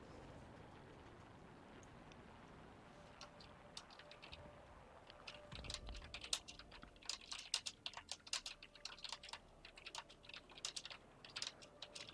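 Rapid keyboard typing on a computer during a War Thunder game session, a dense run of quick clicks that starts softly and grows busier in the second half, faint and close over a steady background hum.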